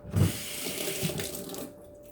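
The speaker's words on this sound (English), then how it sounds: "Rinse my hands off." Water runs from a kitchen tap while hands are rinsed under it, a close, steady splashing stream with a heavier gush at the start, tapering off near the end.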